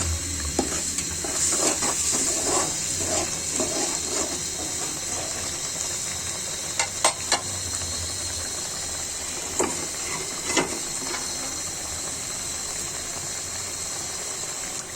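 Pieces of rui fish frying in hot spiced oil in a pan, a continuous loud sizzle and hiss with occasional sharp crackles and spatters throughout.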